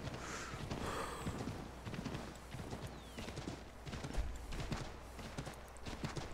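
Horse hooves in Assassin's Creed 3, a quiet continuous clip-clop of a ridden horse moving at pace, faint under game ambience.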